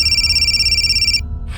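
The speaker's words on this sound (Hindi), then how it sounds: "फोन बज रहा है।" A telephone rings in a household scene, a loud, close electronic trilling tone pulsing rapidly for over a second before cutting off abruptly, with a faint murmur following.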